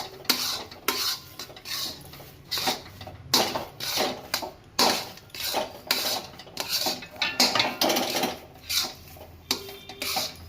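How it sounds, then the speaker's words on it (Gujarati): Grated coconut being stirred and roasted in a pan for kopra pak: a spoon scrapes and clinks against the metal pan in a steady, repeating rhythm, close and fairly loud, with no speech. "આવી રીતે આપણે 2 મિનિટ શેકશું."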